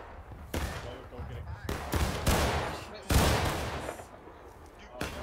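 Scattered musket shots from the War of Rights video game crack out irregularly, several loud reports at uneven intervals with booming echoes, mixed with voices talking in the background.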